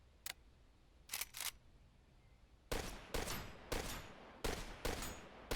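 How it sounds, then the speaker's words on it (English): Gun reload animation in the first-person shooter video game XERA Survival: a few sharp mechanical clicks and clacks, then a burst of loud rapid firing, all close with no talk. "Let's check out that reload animation."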